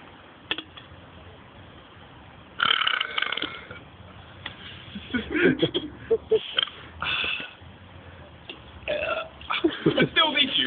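Loud, repeated belches from people in a burping contest, some long and croaking, others short, coming in bursts with laughter and talk between them.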